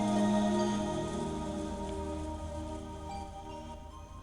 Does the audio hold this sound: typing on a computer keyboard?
no